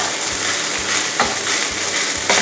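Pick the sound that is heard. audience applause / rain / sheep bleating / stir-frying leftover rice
stir-frying leftover rice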